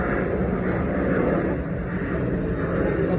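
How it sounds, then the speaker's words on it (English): Airplanes flying by overhead, a steady loud broadband engine roar that holds without letting up. "The planes are flying by."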